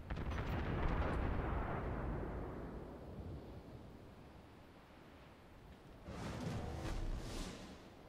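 A deep, rumbling torpedo explosion in World of Warships rolls on for several seconds, then a second boom swells near the end, loud and heavy like distant blasts.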